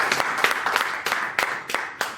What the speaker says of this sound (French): Sur vos acclamations, s'il vous plaît.